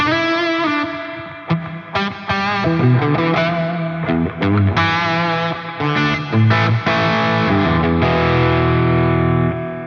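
Electric guitar played through an Eventide H90 pedal's Weed Whacker overdrive, a loud, continuous distorted tone with sustained chords and shifting notes, washed in modulation and reverb, with no talking.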